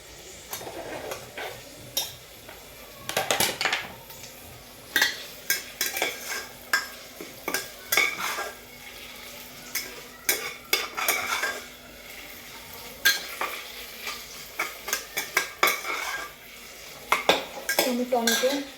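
Chopped tomato being stirred into fried, reddened onion in a pan, with a spatula repeatedly scraping and clattering against the metal in irregular bursts over a soft steady sizzle. No one speaks.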